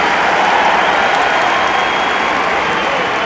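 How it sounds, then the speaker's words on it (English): Hockey arena crowd applauding during a New Jersey Devils game against the Coyotes, a steady dense wash of clapping and crowd noise that stays loud and even throughout. "And a beautiful applause here."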